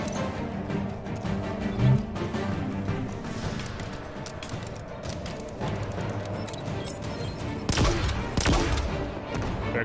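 Gunfire aimed at a ship in the video game Halo Infinite: rapid bursts of crackling shots and impacts under dense game noise, loud and busy, with a heavier burst near the end.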